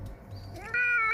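Pet house cat starting to go outdoors, letting out a single clear meow that rises in pitch and holds, loud and close after a moment of quiet background.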